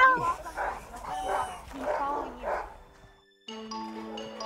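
A pit bull barks and whimpers close by, a run of short, strained yelps and whines in uneven bursts, followed by a sudden burst of bright tonal music at the end.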